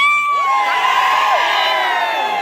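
A crowd cheers and whoops to celebrate a Shiv Sena (Shinde faction) election win in Dudhani. Loud, dense shouting and high excited voices run through the whole stretch, with whistle-like calls rising and falling above the din.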